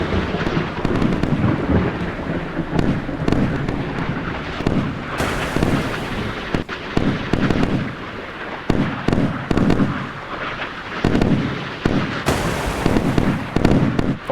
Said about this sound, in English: Final last few missiles dribbling in.